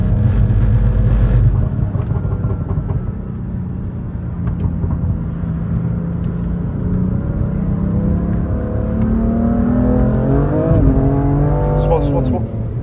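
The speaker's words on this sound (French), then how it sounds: "Faut accélérer après pour continuer le drift." A car drifting on a race circuit, its engine loud and close, revving and climbing in pitch as the driver accelerates through the slide, with people talking over it.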